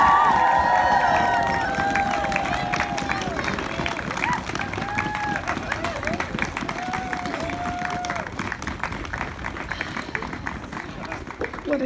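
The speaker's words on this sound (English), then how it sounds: "Please join me in a big round of applause" At the presentation of a school award, an audience breaks into a big round of applause, dense continuous clapping that stays loud throughout with voices calling out over it.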